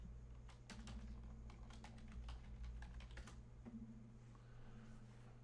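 Rapid key clicks on a computer keyboard while a password is entered, faint and irregular bursts of keystrokes over a steady low hum.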